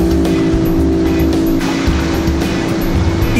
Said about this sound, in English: Here are two engines with the same horsepower